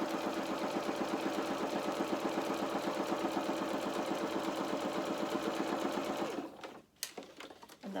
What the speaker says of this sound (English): now we're going to sew just one row just underneath 1/4 of an inch